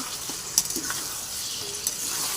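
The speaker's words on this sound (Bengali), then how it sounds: "এবার গরম জল ফুটিয়ে রেখেছি সেই জলটাকে ঢেলে দেব" Hot water is poured into frying mutton curry, giving a faint, continuous hiss and sizzle with a few small pops and splashes, heard alone.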